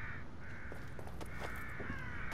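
Several crows caw in the video game The Evil Within, harsh calls repeating over a steady ambient drone, fairly distinct and close, with no talking.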